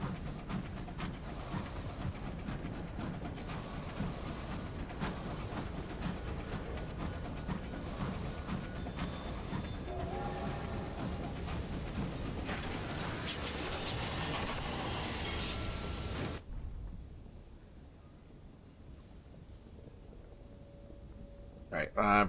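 A locomotive runs in the Sunless Skies video game, a steady rumbling chug with hiss under continuous talk, then cutting off abruptly to near quiet.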